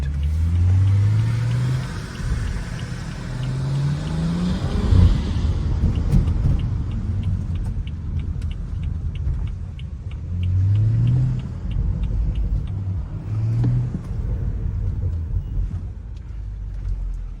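A BMW F30 335i engine rises and falls through several revving pulls, with a crackle of exhaust pops between them, loud and close from inside the cabin.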